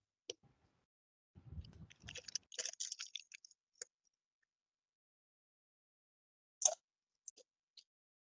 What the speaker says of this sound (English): You guys get to hear it eating ASMR, so you don't get bored.